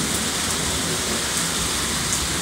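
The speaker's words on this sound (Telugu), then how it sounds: "వర్షం పడుతుందండి." Rain falls steadily on a home garden, a dense, even hiss of drops close by with no breaks and no voices.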